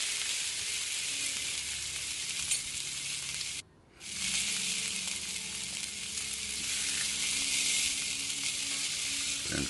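Country-style pork ribs sear in a hot pan, a steady, loud, close sizzle that cuts out for a moment partway through and then resumes, with no talking.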